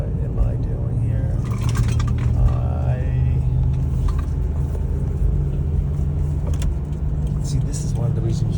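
A car drives along a highway toward Providence, giving a steady, loud low rumble of engine and road noise that holds through the whole stretch, with brief brighter whooshes of passing traffic.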